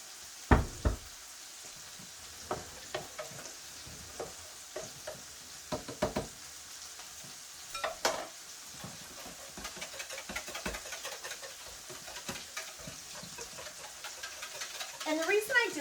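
Spoon stirring Better Than Bouillon into boiling water for gravy, irregular clinks and knocks against the pot with scraping in between, busier toward the end.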